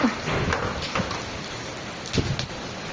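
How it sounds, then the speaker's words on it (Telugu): Hail clatters and taps in a continuous heavy shower, with sharper individual impacts standing out now and then; no talking. "మాకు వడగళ్ళ వాన పడుతుందిగా చూడండి అందరూ ఒకసారి"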